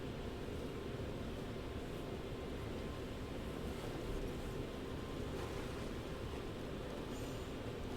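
A boat moving across water in The Walking Dead: Michonne video game, a steady broadband rush of engine and water at moderate level, constant and unbroken through the whole stretch with no talking.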